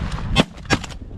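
Two sharp shotgun blasts crack out in quick succession during a duck and snow goose hunt in a snowstorm, loud and close with brief decay.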